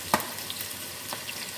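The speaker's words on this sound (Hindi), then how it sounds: "चिकन को हम फ्राई कर लेते हैं।" Chicken fries in a pan with a low, steady sizzle, broken by two sharp scraping stir strokes that stand out near the start and around the middle.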